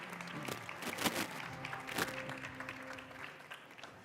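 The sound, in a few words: applause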